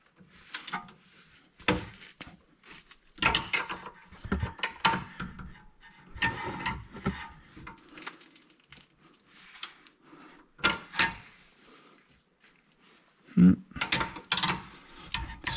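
A torque wrench ratchets while tightening a bolt to 73 foot-pounds on a sixth-generation Ford Taurus. Bursts of sharp clicks come close, separated by pauses and clunks of tool handling.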